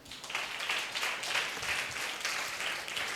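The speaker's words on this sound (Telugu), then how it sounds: "మీ అందరికీ మీరే క్లాప్స్ కొట్టుకోండి." Children at a church Vacation Bible School clap for themselves, a faint, distant patter of many hands rising and falling in loose waves.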